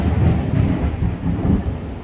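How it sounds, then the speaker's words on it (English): Thunder rolls through a deep, heavy rumble that swells and eases over a couple of seconds, loud and continuous with a hint of rain beneath, and no voices. "That was some wicked thunder."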